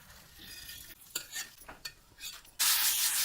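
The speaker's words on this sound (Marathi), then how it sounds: "असं परतू परतू घेत राहायचं" Puran filling for Maharashtrian puran poli is stirred in a pan, with a few close scraping strokes and a light sizzle, then a sudden loud hiss at the end, with no talking.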